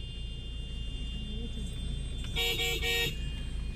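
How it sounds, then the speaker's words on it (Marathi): Road traffic near a hilltop fort shrouded in fog, with a low steady rumble of vehicles and a short burst of car horn honking about two-thirds of the way through. "ट्रॅफिक बघा किती झालंय."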